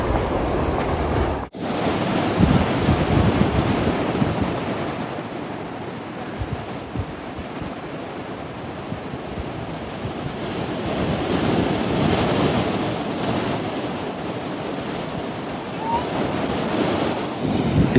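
Ocean surf and gusting wind at Mile Rock Beach in San Francisco, a loud continuous roar of breaking waves mixed with heavy wind buffeting on the microphone, with no speech.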